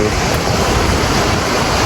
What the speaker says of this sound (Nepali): हामी चाहिँ समुद्रमा छौँ